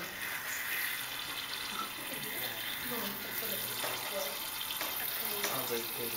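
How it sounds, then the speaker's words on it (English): Water poured by hand to flood soil in a container, a steady splashing trickle running throughout at close range with a continuous wash of noise. "fill her up with water."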